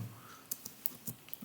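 Light, faint keystrokes on a computer keyboard tap out in an irregular run of about eight clicks, with no talking.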